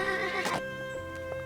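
A horse gives one loud whinny that quickly fades, set against sustained musical tones in a dramatic scene.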